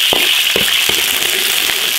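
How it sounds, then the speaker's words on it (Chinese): Rock sugar fries in oil in a large iron wok, a steady close-up sizzling hiss broken by a few soft pops as it bubbles. "冰糖炒至冒泡。"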